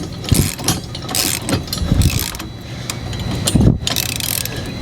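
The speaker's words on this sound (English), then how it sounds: "we got the wrench on the head of the bolt, and then the socket or another wrench on the nut here" Socket wrench ratcheting while tightening a bolt on a Lolo 6 and 4 bike rack with standard tilt assembly, several short bursts of metallic clicking at a steady, close, moderately loud level.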